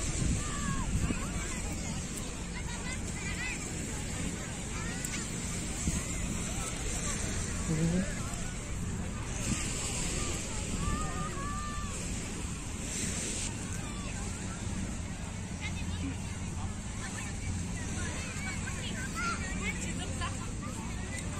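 Waves and wind at Kite Beach at night, a steady rushing surf and wind noise buffeting the microphone, with a crowd's babble and voices talking over it throughout.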